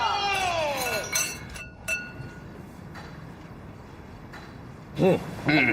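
Drinking glasses clink together in a toast among a group at a celebratory dinner: a ringing chime first, then several sharp clinks spaced apart, with faint voices in the background.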